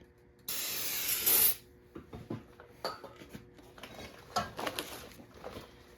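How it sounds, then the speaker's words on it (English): A loud aerosol spray of parts cleaner on the brake parts of a 2008 Ford Edge hisses for about a second, followed by light clinks and taps of metal parts being handled nearby. "I do have some parts cleaner, so I will just kind of spray just a little bit of that on there"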